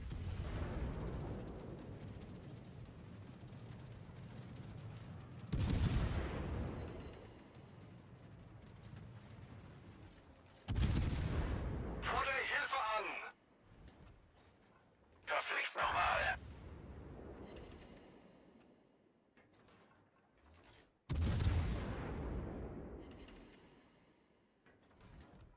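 World of Warships naval guns from the heavy cruiser Des Moines fire in four big booming salvos spaced several seconds apart, each with a sharp crack and a long rolling rumble, with brief voice callouts in between.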